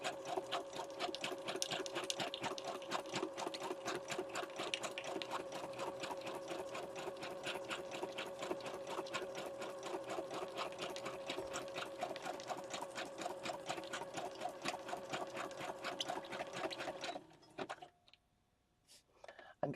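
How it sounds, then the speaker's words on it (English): Close, fast, even stitching of a sewing machine running through a glued grocery bag junk journal, a continuous mechanical chatter that stops abruptly near the end, followed by a few faint handling sounds. "We are sewing right through the glue."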